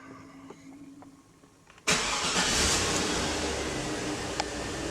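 A Chevy Tahoe engine with a transmission shifting fault cranks and catches abruptly, then settles into a loud, steady broadband roar and run close by, with no talking.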